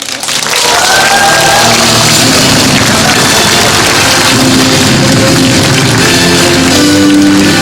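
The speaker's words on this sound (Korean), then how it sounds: "여러분들의 뜨거운 박수와 함성으로 시작하겠습니다" Loud, sustained applause and cheering from a large crowd opening a city hall citizens' dialogue event in Jecheon, South Korea, dense and continuous throughout, with a steady rumble underneath.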